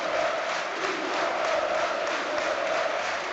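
Huge football crowd at the Oxford United v Wycombe promotion match in 2016, roaring and cheering in a steady, loud wall of sound with no break.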